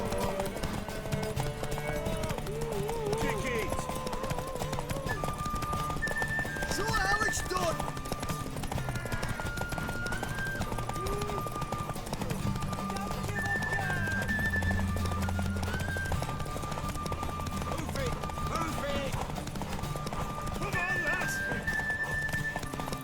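Steady horse hooves clip-clop at a trot throughout, with a horse whinnying partway through and music and voices from The Witcher 3: Wild Hunt mixed underneath.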